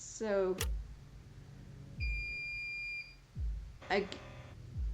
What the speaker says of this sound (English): sounds like a fucking microwave beep